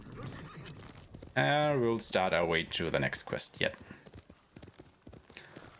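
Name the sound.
horse neighing and hooves in the video game Ghost of Tsushima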